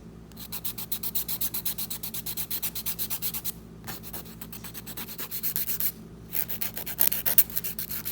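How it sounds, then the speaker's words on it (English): A rapid, rhythmic grinding of an electric nail drill sanding natural nails, in steady bursts with two brief pauses, close and fairly loud. "just make sure you sand down your natural nails so that everything's even"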